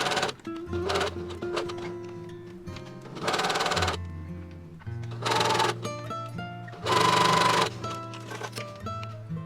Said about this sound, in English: Make gathering stitches on the sleeve between the two single notches, either side of the centre point.